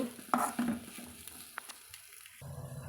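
Okra stir-fry (poriyal) being stirred in a pan over a medium flame: a few scraping, clinking strokes of the spatula over a soft, low sizzle, close by and without talk.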